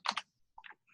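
Typing on a computer keyboard, a quick pair of close key clicks followed by a couple of lighter taps, brief and isolated in a quiet room.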